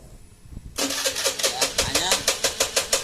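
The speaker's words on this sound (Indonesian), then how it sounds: "Motor ini jika di starter ini" Honda Beat FI motorcycle with a rough-starting fault cranks and fires after a brief pause, then settles into a choppy, pulsing idle with regular beats close to the mic while someone speaks briefly over it.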